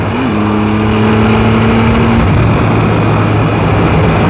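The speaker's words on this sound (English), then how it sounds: "that's a roll on off of 5, off of 5th gear, full throttle" A 2017 Triumph Tiger 1200 motorcycle doing a full-throttle roll-on in fifth gear, a loud, close, steady engine drone with a rising then shifting tone under heavy wind rush.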